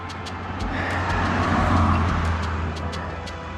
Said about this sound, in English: Now we just gotta wait for cars to go by.